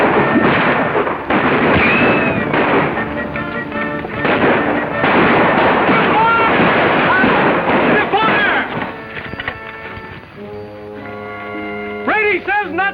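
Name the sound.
gunfire in a 1950 western film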